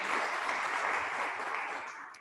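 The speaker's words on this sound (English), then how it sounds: "Applause, please." Audience applause at the end of a cybersecurity seminar talk, a steady crackling burst of many hands clapping that fills the moment and fades slightly at the close.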